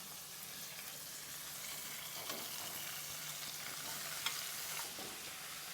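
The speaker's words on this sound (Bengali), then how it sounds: "এবার আমি ভালো করে নেড়ে নেব।" Boiled cabbage and kathla fish head are stirred in a hot pan, a soft steady sizzle with occasional scraping strokes of the spatula, close and continuous.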